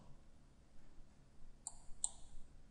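Two sharp, close computer mouse clicks, about a third of a second apart, sound while modeling in Inventor 3D CAD software against a quiet room background.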